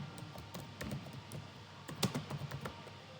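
Code being typed on a computer keyboard, soft rapid key clicks in an uneven rhythm, quiet and close, with a slightly louder burst of keystrokes toward the end.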